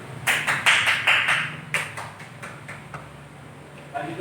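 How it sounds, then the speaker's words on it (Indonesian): Short round of hand clapping from a small group in a classroom, a few uneven bursts of claps close by that quickly thin out to scattered taps and fade. "Tepuk tangan dulu."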